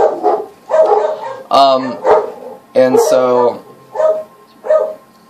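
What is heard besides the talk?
dogs barking at the mailman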